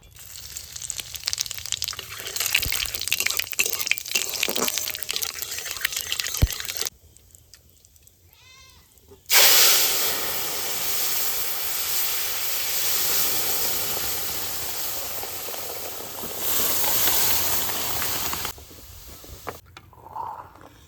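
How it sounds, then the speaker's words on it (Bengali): Bay leaves, dried red chillies and whole cumin seeds sizzle and hiss in hot oil for a village-style gourd dal, loud bursts of frying with a quiet gap midway before the crackle surges back. "দুটো তেজপাতা আর দুটো শুকনো লঙ্কা তেলের উপর দিয়ে দেবো অল্প গোটা জিরে"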